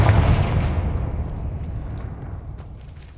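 A Confringo blasting spell in Hogwarts Legacy bursts with a loud, close boom that decays into a long rumbling tail over about three seconds, with no voices.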